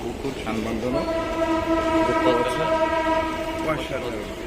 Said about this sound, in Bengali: ট্রেনের হুইসেল নিশ্চয়ই শুনতে পাচ্ছেন ট্রেন যাচ্ছে